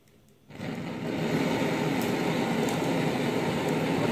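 A blowtorch flame roars steadily as it heats the blade of an old knife, starting from near quiet and holding a loud, constant rushing hiss throughout.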